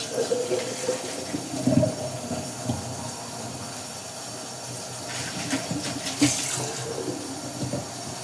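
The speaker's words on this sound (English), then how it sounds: "I just fill them with water." Water running from a tap to fill containers, a soft steady hiss with occasional clunks and splashes, fairly faint and alone.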